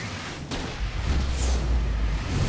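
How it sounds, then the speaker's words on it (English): A flare gun fires in the Alan Wake video game: one sharp bang followed by a low, sustained rumble that fills the rest of the short moment. "Flare gun works better"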